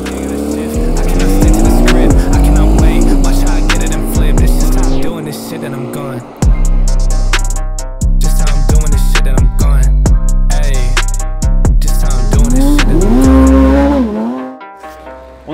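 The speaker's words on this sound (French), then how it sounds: "J'ai pas de temps à perdre pour aller manger et j'y vais en GT3 RS." Porsche GT3 RS sports car accelerating hard, loud high-revving engine climbing through gear changes with brief lifts between shifts, close and dominant, with some tire noise.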